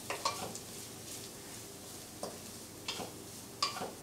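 Spice paste stirred in a hot pan with mustard seeds, dried red chillies and curry leaves, a steady quiet sizzle broken by a few soft scraping stirs, close and alone.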